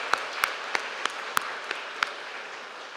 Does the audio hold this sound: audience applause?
yes